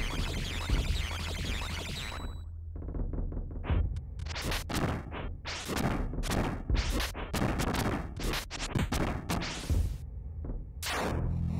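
A big explosion in Seiken Densetsu 3 comes as a loud rumbling burst, followed by a busy run of sharp hits, whooshes and crashes from the battle.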